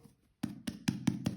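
Soft sourdough grissini dough is pressed by hand in five quick rhythmic pats with slight squishy thuds, close up after a brief quiet moment.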